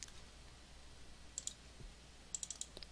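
Computer mouse clicks, faint and close: a lone click, then a quick pair, then a rapid cluster of three or four, over quiet room hiss.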